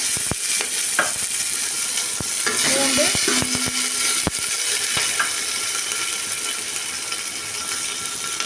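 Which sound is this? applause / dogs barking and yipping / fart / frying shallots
frying shallots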